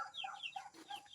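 Chickens in a simple backyard coop cluck repeatedly in short, overlapping calls, several birds close by with a brief rooster-like note mixed in.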